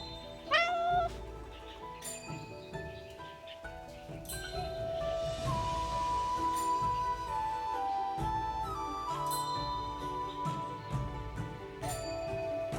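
A cat meows repeatedly and insistently on a shrine in a video game event story, close and clear, over soft background music with sustained tones.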